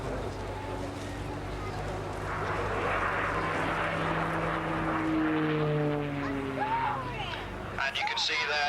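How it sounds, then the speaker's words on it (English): A propeller aircraft performs an aerobatic display at an air and country fair, its engine droning continuously at a moderate distance and shifting in pitch as it manoeuvres, while a commentator talks over it. "So, Curbs opens his display with a half horizontal in front of us"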